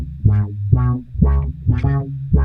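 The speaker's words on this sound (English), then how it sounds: "So then I added this autofunk, which is a filter that opens and closes automatically." A synth line runs through an auto-opening autofunk filter, its tone swelling brighter then closing on each of five rhythmic notes, close and alone with no talk.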